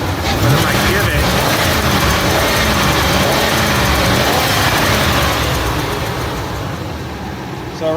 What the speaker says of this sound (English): When I first just lightly crack the throttle, it's not happy with that.